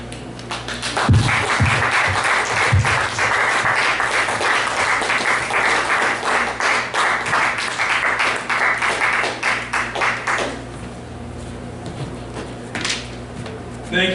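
An open mic audience at a poetry and prose series in Lakewood, Ohio applauds a poet, opening with a few loud close claps before sustained dense clapping that fades out, followed by quieter room sound.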